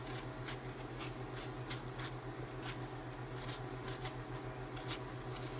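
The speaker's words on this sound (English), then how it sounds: "my favorite little peeler here and just go around and peel like so." A small vegetable peeler scrapes around a sweet potato in repeated short, papery strokes at an uneven rhythm, quiet and close over a low steady hum.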